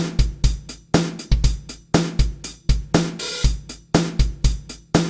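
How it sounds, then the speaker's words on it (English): Punchy drum loop with kicks and snares alternating open and closed hi-hats, a steady repeating two-bar pattern, loud and dry with no voices. "we'll have an open hi-hat and then a closed hi-hat on beat 1 again"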